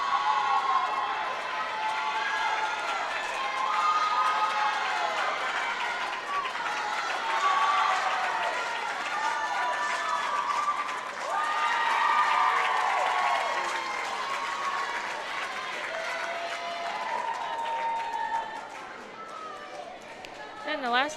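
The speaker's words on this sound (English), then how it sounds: "Teammates are cheering on the last swimmer as she's making her way towards the finish." Teammates at a girls' high school swim meet cheer and applaud without pause, a loud, echoing indoor crowd roar with shouts layered over sustained clapping as a last relay swimmer nears the finish.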